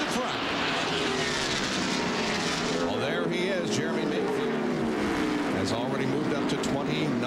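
A pack of NASCAR stock cars roars around Darlington in 1998, their engines a dense, loud, continuous howl with pitch sweeps as cars pass, all under a commentator's running talk.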